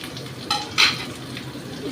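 Dry spices (chilli, turmeric, cumin and coriander powders) being stir-fried with a splash of water in a pan over high flame for a prawn and taro curry, with a steady close sizzle and two brief clinks of the spatula against the pan.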